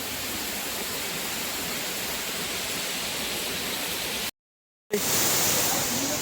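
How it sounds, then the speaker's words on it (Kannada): A forest waterfall beside a Shiva temple pours with a constant, dense roar of rushing water, broken by one short dropout before it returns. "ಶಿವನ ತಲೆ ಮೇಲೆ ಯಾವತ್ತೂ ನೀರು ಬೀಳಬೇಕಂತ ಜಲಪಾತದ ಪಕ್ಕದಲ್ಲೇ ದೇವಸ್ಥಾನ ಮಾಡಿದ್ದಾರೆ."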